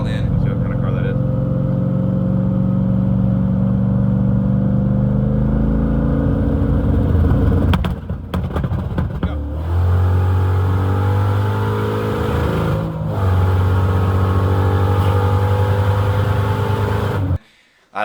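A turbocharged Chevrolet Camaro SS (F-body) revs and accelerates loudly nearby, with sharp pops and crackles from the anti-lag breaking through the roar.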